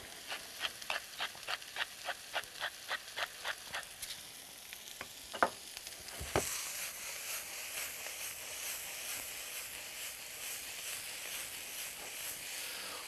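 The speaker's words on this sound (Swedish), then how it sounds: "medan såsen håller på att sjuda ner" Sauce simmering and sizzling in a pan on the stove, a rhythmic series of stirring scrapes at first, then a few louder clatters followed by a steady, fairly loud bubbling hiss.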